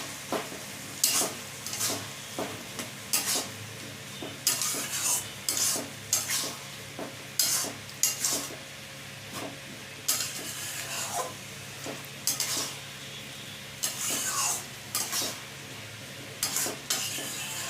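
A spoon stirs mustard and green chili paste into ridge gourd in a pan, with steady rhythmic scraping strokes over a soft sizzle, close and moderately quiet.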